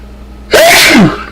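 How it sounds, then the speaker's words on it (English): A single loud, close sneeze bursts out after a brief quiet moment, sharp and breathy, then fades quickly. "I'm going to sneeze."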